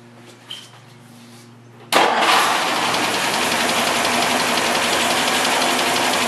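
A rebuilt car engine with new valve covers, spark plugs and wires cranks and fires up abruptly, then settles into a loud, steady idle close by after a quiet start.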